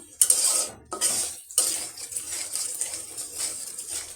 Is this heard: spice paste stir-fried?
yes